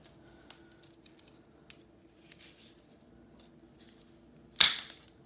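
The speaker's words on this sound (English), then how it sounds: "Ooh, I just broke my scissors." A single sharp snap near the end, a brief crisp crack of scissors breaking while cutting a nylon halter, after faint scattered clicks in a quiet room.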